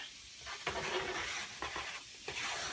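Sausage gravy is stirred in a pan, a spoon scraping in repeated strokes over a soft background sizzle, close and moderately quiet, with no talking.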